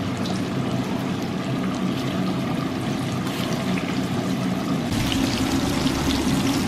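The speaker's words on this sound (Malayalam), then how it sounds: "ഇതിലേക്ക് നമുക്ക് ചിക്കൻ ഓരോ പീസായിട്ട് നമുക്ക് വറുത്തെടുക്കാം" Chicken pieces for Chicken Manchurian deep frying in hot oil, a steady dense bubbling and crackling sizzle that swells louder toward the end, close and continuous with no talking.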